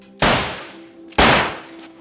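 Two loud gunshots from the film The Rover (2014) boom about a second apart, each with a sharp crack and a decaying tail.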